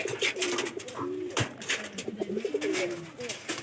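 Domestic pigeons kept in a home loft coo repeatedly up close, their soft throaty rolling calls rising and falling in a steady run over faint background noise.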